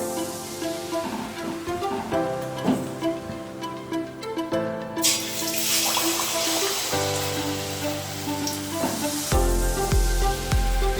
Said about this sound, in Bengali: এবার হচ্ছে গ্যাসের ফ্লেমটাকে একটু লো টু মিডিয়ামে রেখে একটা একটা করে মালপোয়া ভেজে নেব।